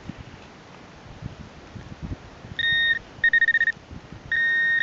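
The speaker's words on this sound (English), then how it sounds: "It's loving it now, this pro pointer." A Garrett Pro Pointer metal detector pinpointer gives short electronic beeps over a buried target outdoors: one steady tone, then a rapid stutter of pulses, then another sustained tone, heard against light rustling background noise.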